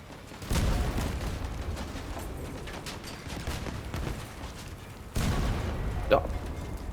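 Gunfire in the Crossout vehicle combat game, heavy booming blasts at the start and again near the end over a continuous rumble, with speech faintly underneath.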